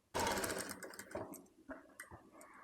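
Sewing machine stitching lining cloth onto a box-pleated baby frock, a loud dense whirring burst that starts abruptly, then breaks into shorter, softer runs and stops.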